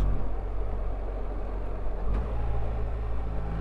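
A BMW R1300GSA motorcycle engine runs on the road, a steady low rumble with a short dip and catch as the quickshifter snicks up a gear with an auto blip, mixed with wind noise and no talking.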